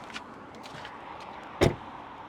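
A Tesla car door opens and thunks shut once as the driver steps out, a short solid knock standing out over a quiet hum inside the parked car.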